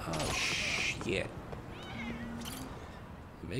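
Cat meows in the Lost Judgment video game, a few short mewing calls mixed with game effects and a faint voice in the background.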